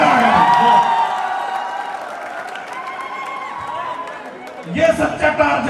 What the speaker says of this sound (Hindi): जोरदार ताली बजाओ, मजा आ गया